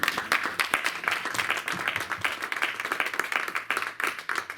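A church congregation bursts into sustained, steady applause during a worship service, many hands clapping densely and evenly for several seconds with no pause.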